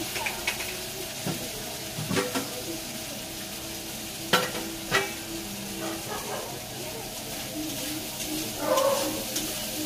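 Fried masala is poured into a pot of Bengali khichuri and stirred in, giving a steady soft sizzle with scraping spoon strokes and a few sharper clanks against the pot.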